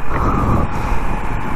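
A Moto Guzzi V7 III Racer motorcycle hums along at a low, steady idle-like rumble while riding, its engine drone heard under continuous wind rush for a brief stretch.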